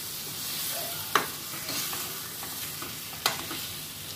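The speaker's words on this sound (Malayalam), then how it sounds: "ആ സമയത്ത് നിങ്ങൾ ഇത് ഇടയ്ക്കൊക്കെ ഒന്ന് ഇളക്കി കൊടുക്കാൻ ശ്രദ്ധിക്കേണ്ടതാണ്" Egg masala being stirred slowly in a pan for Kerala-style roasted egg masala, a soft steady sizzle with scraping strokes and a couple of sharp utensil taps against the pan, fairly quiet and without talk.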